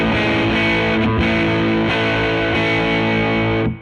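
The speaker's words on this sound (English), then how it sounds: "let's go ahead and get into some more overdriven tones" An overdriven electric guitar through the Benson Chimera amp plugin with its preamp switched on, sustained gritty chords ringing loud and alone before fading out at the end.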